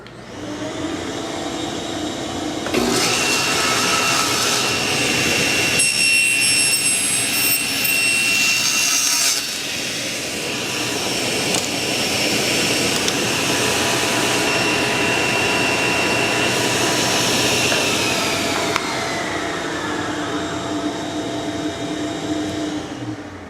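A table saw runs loud and steady for about twenty seconds while cutting dovetail tails in a wooden board, with a sharper whine during the middle of the pass and a gradual spin-down at the end.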